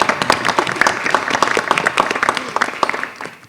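Audience applause at an AP parent night meeting, a dense, steady patter of many hands clapping in a hall that fades out toward the end.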